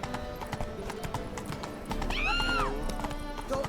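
A horse gallops in The Witcher 3 video game, rapid rhythmic clip-clop of hooves throughout, with a loud neigh midway.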